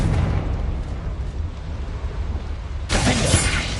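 Confringo fire spell in the Hogwarts Legacy video game; a loud, continuous rumbling roar with a sharper crackling blast surging in near the end, no talking.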